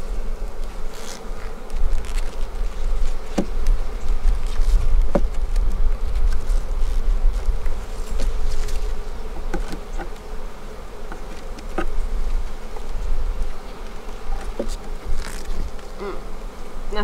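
Honey bees swarm around an opened hive during the year's first inspection, a dense, loud, continuous buzz close by with occasional sharper passes of single bees, and no voices.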